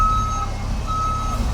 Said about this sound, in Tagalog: Ito yung driver namin na pag na-atras